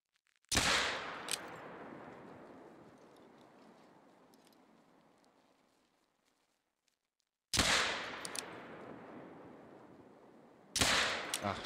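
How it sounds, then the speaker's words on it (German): Loud rifle shots in the hunting video game theHunter: Call of the Wild, one sharp crack with a long fading echo, then two more shots a few seconds apart, with quiet gaps between. "die letzten beiden Schüsse waren einfach unnötig"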